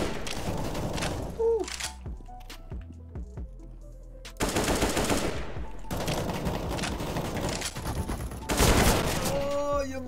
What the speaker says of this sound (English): I'm gonna shoot this guy through the wall.